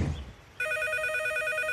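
A cartoon telephone suddenly starts ringing with a steady, high electronic trill after a moment of quieter background, sustained and clear in a bear cartoon scene.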